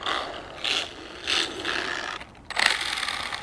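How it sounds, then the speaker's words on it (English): Small fast mini RC basher car with its motor pinion grinding against the spur gear, giving a ratcheting, gear-chattering whir that surges in short bursts, close and alone. "That sounds like motor on spur gear"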